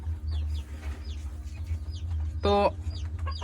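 Buff Polish Cap fancy chickens clucking in a coop, several short cackling calls over a low steady hum, with one louder harmonic squawk near the end and faint background voices.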